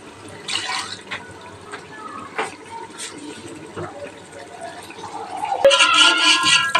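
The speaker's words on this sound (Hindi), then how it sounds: "ہم نے یہاں پہ 2 کپ پانی شامل کیا ہے" Water being poured into a pot of simmering meat for achari gosht, a pickled-spice mutton curry, sounding as a soft splashing, trickling pour over a few seconds that grows louder and brighter toward the end.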